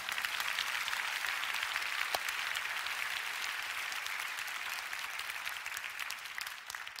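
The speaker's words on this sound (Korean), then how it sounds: "지금 여러분 박수 쳐주셨잖아요" A church congregation applauds steadily throughout, a dense, even wash of many hands clapping with no voices standing out.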